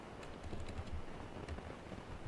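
Soft, quick clicks of fingers typing on a computer keyboard, close and quiet, with no speech.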